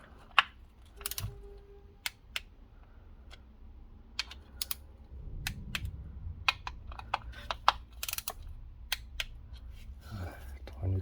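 Bolts on the gearbox pump of an Audi A6 C7 2.0 TDI with an SKB (0CK DL382-7F) automatic transmission being torqued with a wrench, scattered sharp metallic clicks and ratcheting ticks close by, with low voices in the background.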